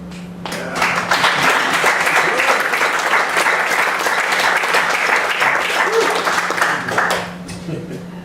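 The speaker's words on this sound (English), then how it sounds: "As the other diners applaud" A dining-room audience breaks into sustained applause after a poem at a musical reading, steady dense clapping building quickly, holding for several seconds, then fading out near the end over a faint background hum.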